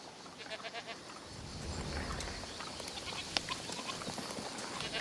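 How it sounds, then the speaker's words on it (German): A goat bleating in the medieval French setting of the A Plague Tale: Requiem video game, heard at moderate distance over steady ambient noise with a few brief sharp knocks. "Ach komm, das ist eine Ziege."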